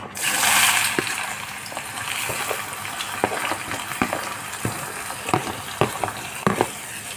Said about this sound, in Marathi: तेल तापलेलं आहे, कांदा टाकून घेऊया